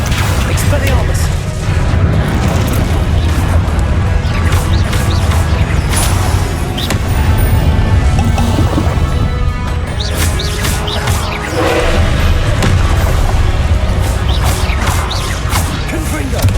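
Spell blasts and impacts during combat in the video game Hogwarts Legacy, a loud continuous barrage of crashes, booms and whacks with mechanical clatter, while a voice speaks throughout.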